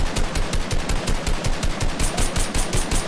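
Automatic gunfire in a video game, aimed at a supply drop, rattles out in rapid, evenly spaced shots that run almost without pause, loud and close.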